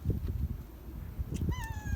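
A cat gives a short meow near the end, over low background rumble and handling noise.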